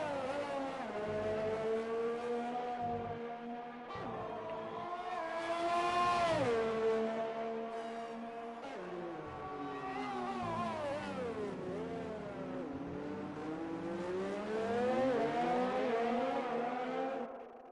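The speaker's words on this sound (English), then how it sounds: "such a nice engine noise" A Formula 1 car engine in the F1 2020 racing game at the USA Grand Prix, a continuous loud high-pitched whine that rises and falls with revs and gear changes, with no voices.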